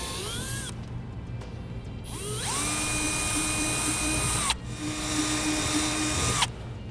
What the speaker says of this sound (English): I'm going to use a 5/16 inch bit, and we're going to get these enlarged slightly here